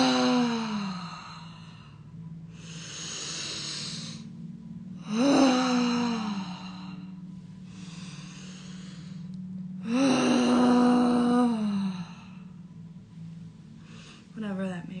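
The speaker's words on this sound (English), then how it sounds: "that may sound like taking really deep breaths like this." Deep breaths are drawn slowly through the mouth, with three long, loud inhales, each followed by an audible, airy exhale, close and alone over a faint low hum.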